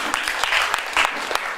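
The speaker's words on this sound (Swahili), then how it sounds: "Unaweza wapigia makofi." Audience applause at an anniversary church gathering, a dense patter of many hands clapping steadily for over a second, loud and close, with a few sharper claps standing out.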